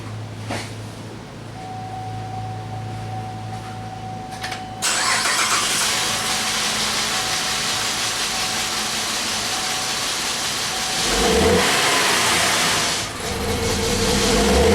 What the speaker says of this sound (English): now we're gonna start the car, and then we're gonna do wide open throttle